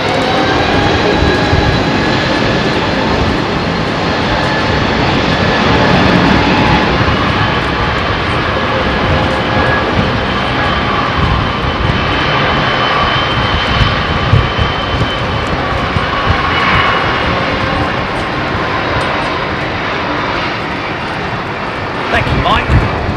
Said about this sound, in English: you'll hear the engines power up